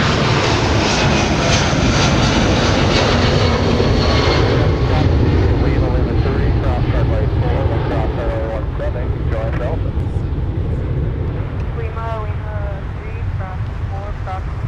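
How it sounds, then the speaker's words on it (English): A Delta Boeing 757-300 jet roaring on takeoff from Minneapolis-St. Paul airport, loud continuous engine rumble that slowly fades as it climbs away, with someone talking over it. "We got the 757-300 now blasting off for LAX."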